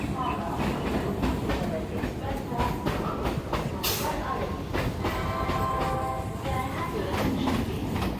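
A train at a busy railway station rumbles steadily with clattering wheels and a brief high metallic squeal, while voices murmur throughout.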